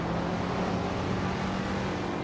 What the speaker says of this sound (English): Chevelinga 74 is driving a 1963 Ferrari